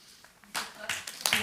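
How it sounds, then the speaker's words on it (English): Brief scattered clapping from a small audience at a school board of education meeting, a few bursts of hand claps over about a second. "You can clap if you want."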